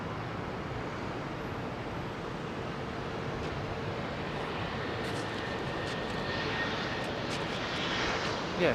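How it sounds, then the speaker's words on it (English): An SAS Airbus A321neo at London Heathrow gives off a steady, broad jet-engine roar that holds level and swells slightly toward the end, with no voices over it. "321 Neo making a lot of noise"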